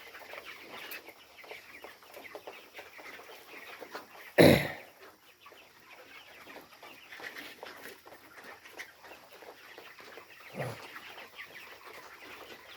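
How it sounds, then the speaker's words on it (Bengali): Chickens cluck softly in a poultry shed of about 900 birds during feeding, a steady low murmur of fowl with one loud, close squawk and a fainter later call. "মুরগি খাবার খাচ্ছে ভাই,"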